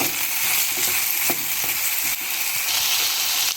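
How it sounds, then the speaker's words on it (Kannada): Soft vegetables fry in oil in a pan for South Kenara temple-style mentya kudilu, giving a loud, steady, crackling sizzle with a few faint stirring clicks and no talk. "ನಾವು ಹೀಗೆ ಎಣ್ಣೆಯಲ್ಲಿ ಹಾಕ್ಕೊಂಡು ಫ್ರೈ ಮಾಡುವಾಗ ಚೆನ್ನಾಗಿ ಬೇಯುತ್ತೆ"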